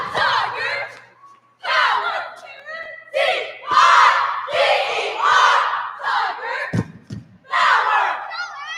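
Fans at a high school cheerleading championship shout and cheer in loud, chanting bursts separated by short gaps, with voices calling out in unison close by.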